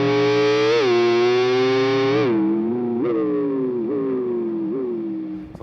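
Distorted electric guitar with an effects unit mimics a Ferrari kicking into gears and downshifting, a sustained note that swoops upward in repeated gliding steps, loud at first then gradually easing off.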